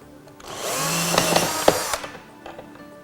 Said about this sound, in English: I can put a little bit of weight into this drill while I screw this hole